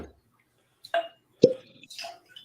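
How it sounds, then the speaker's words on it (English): A cork pulled from a Russell's single barrel whiskey bottle gives a sharp, close pop midway, between a few soft squeaky clicks in an otherwise quiet room. "That's a cork pop."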